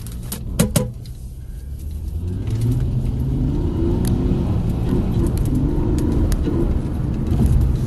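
A 2008 Honda Accord accelerates hard in a pull, the engine note rising into a loud sustained roar that stays strong for several seconds after a brief knock or two at the start, with no talking over it.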